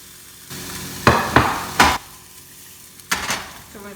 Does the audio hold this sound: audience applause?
no